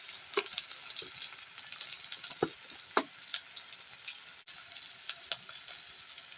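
Cumin paste and spices sizzle in hot oil for a fish curry, a steady bright frying hiss with occasional sharper pops and crackles, close and alone.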